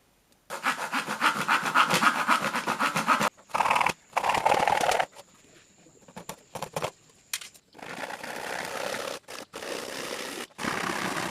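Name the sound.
sawing plywood (triplex)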